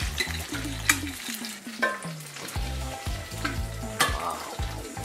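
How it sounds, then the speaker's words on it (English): An egg sizzling and crackling steadily in a hot frying pan, with sharp pops breaking through the continuous fry. "There's the egg sizzling."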